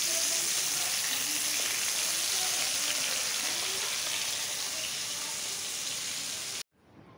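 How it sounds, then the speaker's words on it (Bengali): Four pieces of fish, rubbed with salt and turmeric, fry in hot oil with a continuous bright sizzling hiss that cuts off abruptly at the end. "চার পিস করে ভাজছি।"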